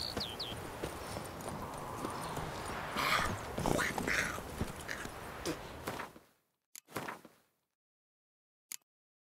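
Horse hooves clip-clopping in The Witcher 3, a rhythmic run of hoof strikes under game ambience that cuts off abruptly, followed by a few isolated knocks in near silence.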